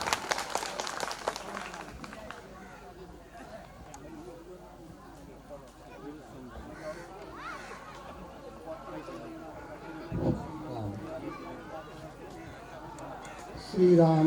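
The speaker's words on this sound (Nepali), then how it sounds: "जोरदार ताली बजाइदिनुहोला।" Audience applause at a teachers' honouring ceremony in Sarlahi, Nepal: a brief burst of clapping at the start that quickly fades into a speaker talking over a hall murmur.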